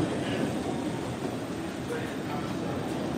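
An MBTA Red Line subway train, one prone to breaking down, gives off a steady motor rumble and whine with rail noise, constant and fairly close for several seconds, with a voice talking over it.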